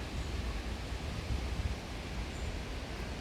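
Steady wind gusts through a fall garden where leaves drop from the trees, a broad rushing hiss with low rumbling buffets, continuous and fairly loud across the whole stretch with no talking.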